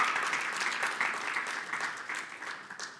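An audience at a televised school debate final claps steadily for a debate team, a dense, even round of applause that fades slightly toward the end.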